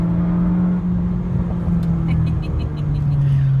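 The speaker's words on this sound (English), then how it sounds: "here we are, sport mode, full boost." Turbocharged car accelerating hard in sport mode at full boost, a loud, steady engine drone with a rising whir, heard from inside the cabin.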